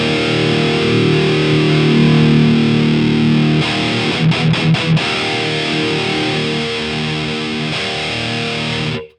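A Mesa Boogie Mark IIC++ reissue amplifier carries a loud, saturated electric guitar, mostly held chords ringing out, with a short burst of choppy muted stabs in the middle before the sustain returns and cuts off at the end.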